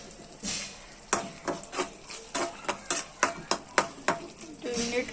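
Small fish and eggplant curry cooks in a pan with a soft sizzle underneath. A spoon scrapes and stirs in a quick run of rhythmic strokes, close and moderately loud.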